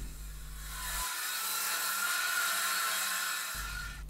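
A track saw rips a piece of wood for a mitre saw station, a steady, loud, continuous cutting whine lasting a few seconds, with the motor audible briefly before and after the cut.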